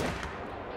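A rifle shot fired at a whitetail buck in the hunting video game Call of the Wild, a single brief broadband crack that fills the short moment.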